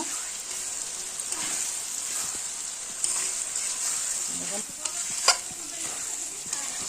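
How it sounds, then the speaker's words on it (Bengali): Spice paste for mutton curry sautéed and stirred in a pan, with a steady close sizzle throughout and occasional scraping strokes of the spoon, no talk. "চলো এখন মশলাটা ভালো করে কষবো। মশলাটা একটু পছন্দ করে কষে নেব, তারপর মাংস দেব।"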